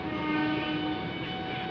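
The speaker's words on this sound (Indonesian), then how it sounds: "ini ada kereta nih lewat" A KRL commuter train rumbles past close by in Jakarta, a loud continuous roar with a steady tonal whine on top.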